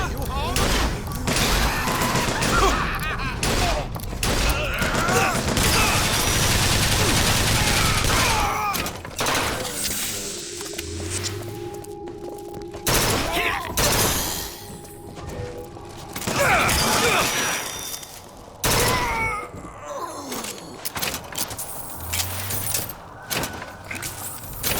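Bursts of gunfire from the video game BioShock Infinite Burial at Sea, set in Rapture, crackle loudly and repeatedly among clanking mechanical noises, with a voice talking over the shooting.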